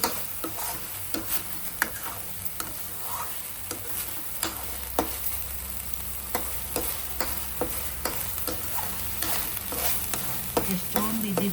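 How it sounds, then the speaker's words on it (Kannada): Onions sizzle and fry in a pan while making dhaba-style palak paneer, a steady crackle broken by repeated scraping and stirring clicks from a spatula, with no talking. "ಈರುಳ್ಳಿ ಫ್ರೈ ಆದಮೇಲೆ ತಳ ಹಿಡಿಯುತ್ತೆ"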